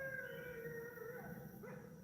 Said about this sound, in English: Sounds like a coyote.